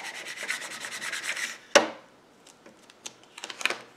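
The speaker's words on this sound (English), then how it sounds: "I used my scraper tool to just flatten it" A scraper tool rubs transfer tape flat over a chalkboard Christmas ornament, making a rapid run of close, dry rubbing strokes, then a sharp tap followed by a few scattered light scrapes and clicks.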